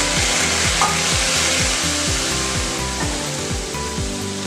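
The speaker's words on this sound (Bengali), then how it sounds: "আমি ওই কড়াইতে জল দিয়ে দিই।" Water hitting a hot kadai in a home kitchen sets off a loud, steady hiss of sizzling and rushing steam that carries on without a break, with no voices.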